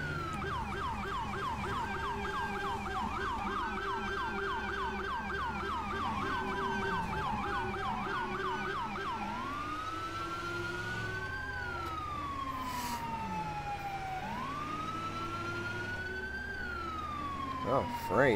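Wailing emergency siren in a video game, cycling through rising and falling tones, switching between fast yelps and slower wails, loud and continuous.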